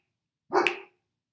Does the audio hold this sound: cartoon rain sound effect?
no